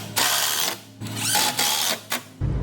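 A power drill bores into a board in short bursts, three or four whirring spurts separated by brief pauses, the motor pitch rising and dropping with each squeeze of the trigger, close and loud.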